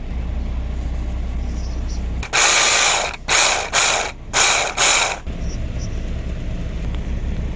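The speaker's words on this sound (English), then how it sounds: "my small teeny tiny food processor" A small food processor chops parsley in several loud bursts, a long pulse followed by three shorter ones, each whirring motor run stopping abruptly against a quiet room.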